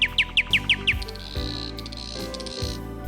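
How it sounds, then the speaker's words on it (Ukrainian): A nightingale sings a quick run of five or six bright, repeated chirps, followed by varied warbling phrases, clear and fairly close. "Соловей."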